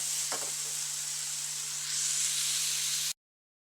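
Onion with a piece of ginger and two garlic cloves sizzles steadily in a hot pan, a constant frying hiss with a brief stir early on and a low electrical hum underneath, cutting off abruptly.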